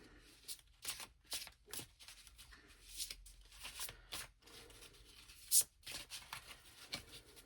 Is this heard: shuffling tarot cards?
yes